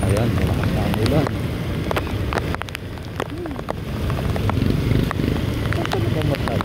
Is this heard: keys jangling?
no